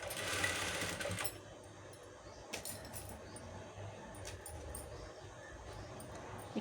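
Domestic sewing machine stitching a blouse, a quiet rapid mechanical whirring run that starts the clip, then softer intermittent clicks and handling noises of fabric and the machine close by.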